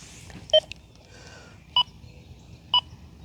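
Three short electronic target tones from an XP Deus II metal detector set to reactivity 3, two-toned and evenly spaced about a second apart, over a faint steady background hum.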